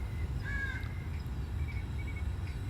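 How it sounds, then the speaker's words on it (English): A crow caws a few times while flying overhead, fairly distant and faint above steady low wind or motor rumble outdoors. "crow just flying over"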